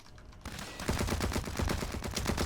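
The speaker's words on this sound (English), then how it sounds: "A little bit of shooting from the hip there." Rapid automatic gunfire from the hip in the shooter game Blacklight Retribution, a dense rattling burst that starts after a brief quiet moment and keeps going loud and steady to the end.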